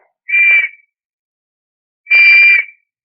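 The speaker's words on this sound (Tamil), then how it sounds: "வாயில இருந்து சத்தம் வந்ததே யோ நீ விசில முழுங்கிட்டாயா" A whistle sounds as if swallowed, giving two short muffled buzzy toots, each under a second long and separated by a pause of about a second and a half.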